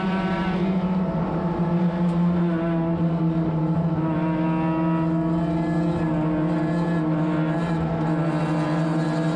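Spec-Mazda race cars circle a racing circuit as a steady, bunched drone of engines, with no single pass standing out.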